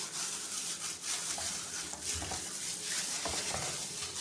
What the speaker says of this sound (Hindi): हाथों की मदद से अच्छे तरीके से हम इसके अंदर मसाला लगाएंगे।